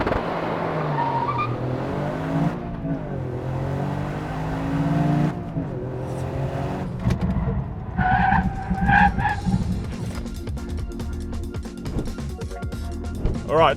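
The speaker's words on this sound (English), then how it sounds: "First, I'll do the 0 to 100 and the braking test" A 2021 Toyota GR Yaris launches hard from a standstill, its engine note climbing and dropping through gear changes before tyres squeal and skid under heavy braking, close and continuous.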